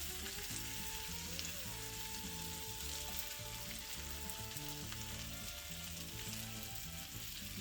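Chicken fries in a pan of butter and olive oil, giving a dense, continuous crackling sizzle, close and steady, alone without talk, with faint background music.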